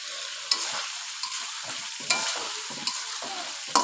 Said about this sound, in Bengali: মশলার সাথে ভালোভাবে কষিয়ে নেব আলু ছড়া